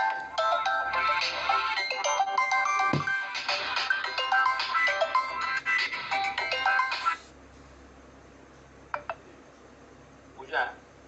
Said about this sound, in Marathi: पूजा, येस, काही लोक फोन करतील मध्ये.